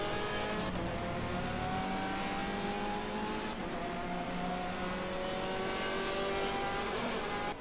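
A Ferrari GT race car engine in a racing video game, a continuous loud engine note rising and falling through gear changes, with no talking.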